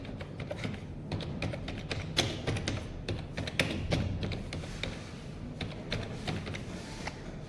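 Steady typing on a computer keyboard while entering an accounting journal entry in ERP software, a continuous run of close, quick key clicks with irregular rhythm and no voices.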